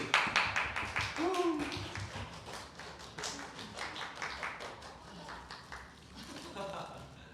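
A church youth group claps for members' birthdays during a Sunday worship service, a dense burst of hand claps from a room of people that carries steadily throughout, with voices talking over and among the applause.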